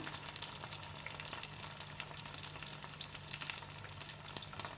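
Spring rolls deep-frying in hot oil give a steady, dense sizzle and crackle with small pops scattered throughout, close and continuous without any voices.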